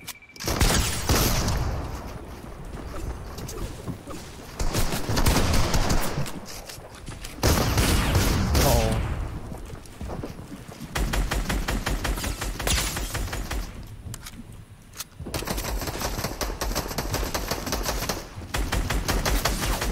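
Gunfire in the video game Fortnite, with rapid automatic bursts and single sharp shots arriving in dense clusters separated by brief pauses, loud and close.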